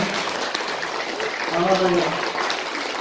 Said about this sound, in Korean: 박수 한번 쳐주실까요?